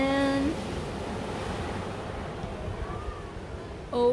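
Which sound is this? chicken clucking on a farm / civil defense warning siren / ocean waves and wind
ocean waves and wind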